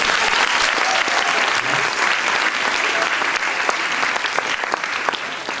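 Sustained audience applause for performers backstage after a named participant is announced at a French youth theatre presentation, a dense steady patter of many hands filling the whole stretch with no talk over it.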